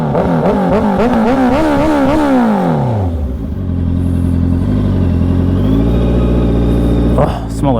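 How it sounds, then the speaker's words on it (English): A motorcycle engine with an aftermarket eBay exhaust revs loudly up and down several times nearby, then settles into a throaty, steady idle before a brief final blip. "Here, I'll get y'all some revs."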